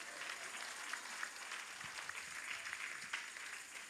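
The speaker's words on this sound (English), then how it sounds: "Give God another bigger clap offering." A church congregation claps in a steady patter, fairly faint and distant, with scattered sharper claps standing out.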